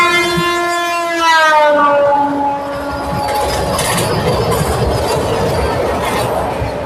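Vikrama Simhapuri Amaravathi Super Fast Express on the Gudur–Vijayawada line rolls past loudly, a wailing horn with stacked tones sounding first and then giving way to a steady rumble of wheels and carriages, with no voices.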